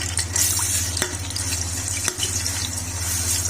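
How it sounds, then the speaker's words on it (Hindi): Ginger-garlic paste sizzling in hot desi ghee for a mutton malai korma: a steady, close frying hiss with a low continuous hum beneath and a couple of brief knocks, no talk. "घी गरम हो गया, इसके अंदर हम डाल देंगे अदरक लहसुन का पेस्ट 1 चम्मच से ज्यादा।"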